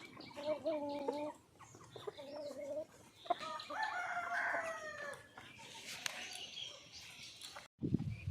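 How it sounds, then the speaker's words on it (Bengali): Chickens cluck and squawk in short bursts inside a coop in the morning, with a rooster crowing partway through, a busy flock close by at moderate volume. "এখন এসেছি মুরগি ঘরে মুরগিগুলোকে ছাড়বো"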